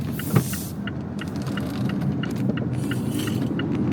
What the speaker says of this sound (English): You do hear a bit of a whine sound, kind of a medium tone sound from the engine.